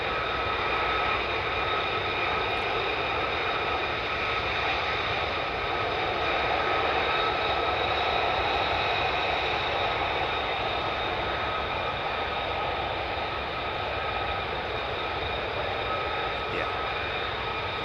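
Sustained, loud roar of F-35 fighter jets from the 48th Fighter Wing, a steady broadband engine rumble and whine holding unbroken for the whole stretch with no distinct pauses.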